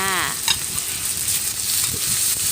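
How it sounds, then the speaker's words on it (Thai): Sliced pork stir-fried in hot oil with pounded chili and garlic, sizzling and frying continuously at close range while a spatula stirs and scrapes through the pan. "นำหมูของเราลงไปผัดให้สุกนะคะ"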